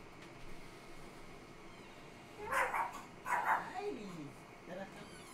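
A dog gives a few faint whimpering barks in two or three short bursts, well in the background under people talking at night.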